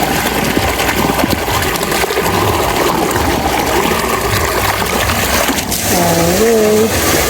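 River water pumped for irrigation pours steadily into a container, a continuous loud gush and trickle that runs throughout, with a brief voice near the end.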